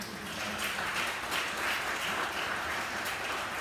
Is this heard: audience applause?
yes